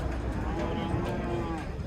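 Cattle low in a deep, sustained moo at a livestock market in Kyzylorda where dairy cows, bulls and steers are sold. The call is close and continuous against a murmur of background noise.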